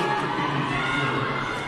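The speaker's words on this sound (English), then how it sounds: "Jackrabbit crowd starting to wake up again." Crowd noise at a girls varsity high school volleyball match, a steady roar of voices and cheering filling the gym throughout the short stretch, with no single shout standing out.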